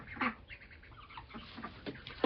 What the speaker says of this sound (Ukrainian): а качки перелякалися